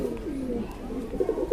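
Madrasi Kalpare pigeons, a few pairs kept together, give soft repeated throaty coos in a low rolling rhythm, close by over a faint background hum.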